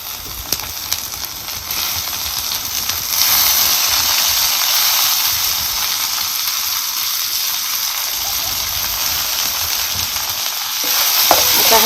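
Garlic roasting in hot oil for a village-style matki dal curry, then chopped tomatoes dropped in: a loud, steady close sizzle that swells as the tomatoes go in and keeps hissing, with no talking.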